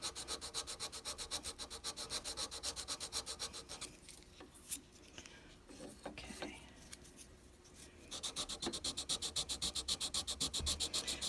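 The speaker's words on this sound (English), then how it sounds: "I don't love sanding" Steady rhythmic rasping of sanding strokes on a small hard solder blob, pausing briefly mid-clip for a short spoken word before the scraping resumes.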